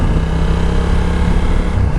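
Honda NT1100 motorcycle riding with steady engine drone and a brief dip as the quickshifter snaps through a gear change, near and fairly loud.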